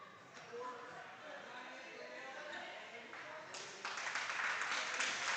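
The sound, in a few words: crowd clapping for seniors at volleyball game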